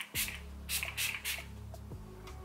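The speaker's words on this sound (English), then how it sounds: "My final step is going back in with my Too Faced spray," Too Faced setting spray mists onto a face in several quick, close pumps, each a short airy hiss, with a faint hum underneath.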